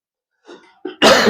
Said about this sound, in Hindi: थोड़ा ठंडी मौसम में खांसी आ रहा है